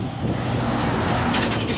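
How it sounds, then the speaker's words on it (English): Cars and vans pass on a road close by, a continuous loud rumble and tyre roar of traffic with no pauses. "You see all these cars? You see all these vans?"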